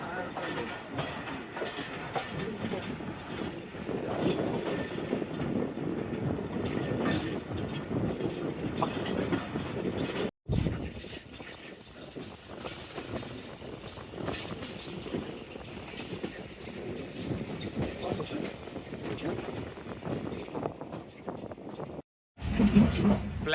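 Pakpattan to Lahore Bulleh Shah passenger train running, a steady broadband rumble and rattle of carriages on rails that continues throughout with a brief break, speech faintly mixed in.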